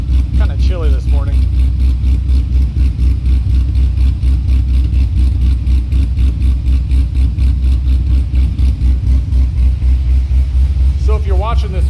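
A Chevrolet Corvette Z06 V8 with an Akrapovic catback exhaust idles after a cold start on a chilly morning, with a steady, deep, pulsing low rumble throughout, loud and close, with a couple of brief voices near the start and end.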